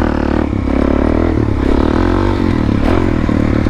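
Dirt bike fitted with an FMF exhaust revs hard as the rider pulls a wheelie, its loud, continuous engine roar close by and rising in pitch, with a few scraping clatters mixed in.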